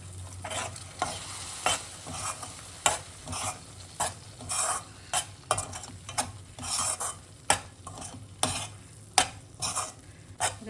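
Milk poured into amaranth (rajgira) shira cooking in a pan, stirred with a spoon in repeated scraping strokes against the metal over a soft continuous sizzle, close and steady with rhythmic clatter throughout.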